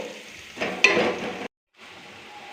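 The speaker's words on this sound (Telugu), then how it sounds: "ఉల్లిపాయ ముక్కల్ని ఒకసారి ఇలా వేపేసుకోవాలి" Onion pieces with turmeric frying in oil, heard as a close, loud sizzle that swells briefly and then cuts off. A quieter sizzle resumes after a short silence.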